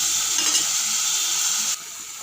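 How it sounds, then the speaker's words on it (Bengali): Spice paste sizzles gently over a low flame with taro pieces in a pan for a hilsa curry, a steady close frying hiss that drops slightly near the end. "2-4 মিনিট মতো লো ফ্লেমে কষিয়ে নিচ্ছি।"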